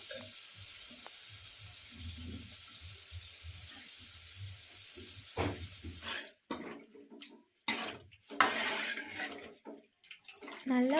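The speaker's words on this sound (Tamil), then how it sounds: "அது கூடயே கொஞ்சம் தண்ணி ஆட் பண்ணிக்கோங்க." Water is poured into soaked, squeezed tamarind extract while cooking dried anchovy (nethili karuvadu) thokku. There is quiet background first, then splashing, gurgling pours in short bursts from about six seconds on, close and fairly loud.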